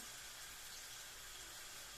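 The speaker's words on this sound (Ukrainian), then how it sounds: "Цибулька у нас смажиться." Onion frying in a pan for a bean and mushroom pâté gives a steady, faint, even sizzle and hiss that runs unbroken throughout with no voices.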